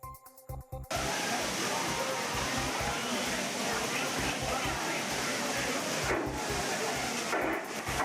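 Courtallam's waterfalls, including the Main Falls, Five Falls, Old Courtallam Falls and Tiger Falls, with many tourists bathing; a loud, steady rushing roar of falling water starts after a brief opening second and carries on with a faint low pulsing underneath.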